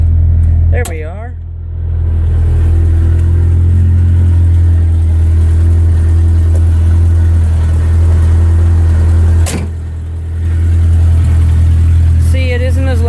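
Ford Ranger pickup with a 2.3 liter four-cylinder engine cranks and starts, then runs with a loud, steady low rumble and a brief rev before settling, with people talking over it.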